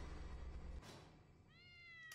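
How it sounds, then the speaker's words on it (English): A cat meows in the Tales of the Neon Sea video game, a single clear drawn-out meow near the end after a low rumble of background game ambience. "It was a cat."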